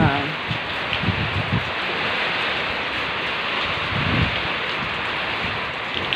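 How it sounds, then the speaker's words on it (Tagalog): Storm wind roars loudly and continuously at close range, mixed with heavy rain-like noise, with brief low gusts and faint voices underneath. "Wala, humahangin na."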